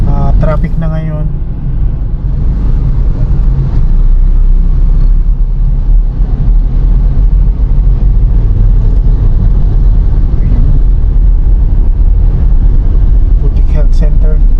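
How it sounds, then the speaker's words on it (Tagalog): Dense late-afternoon city traffic in Zamboanga City, Philippines: a continuous low rumble of engines and passing vehicles heard from the roadside, with a voice talking briefly at the start. "Traffic na ngayon."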